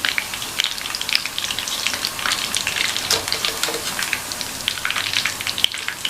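Soya chunks deep-fry in hot oil, giving a steady crackling sizzle with dense, irregular pops. The frying is close and continuous, and no voices are heard.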